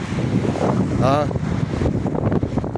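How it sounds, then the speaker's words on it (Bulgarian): Steady wind buffets the microphone over the wash of sea waves, with a brief chirp and faint voices mixed in. "Чувате ли моренците?"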